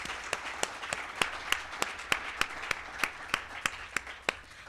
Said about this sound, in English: can we just take a round of applause for everyone?